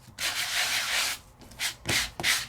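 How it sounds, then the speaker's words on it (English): Close, scratchy sanding strokes on embossed vellum paper, a long rub followed by several shorter back-and-forth passes. "Now I can just sand, sand, sand."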